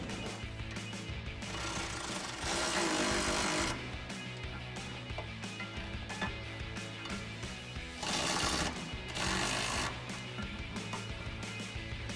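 Power tool, likely an impact driver, tightening running board bracket bolts on a 2019-2023 Chevrolet Silverado 1500, heard as a steady mechanical whir with two louder bursts of buzzing torque, no talking.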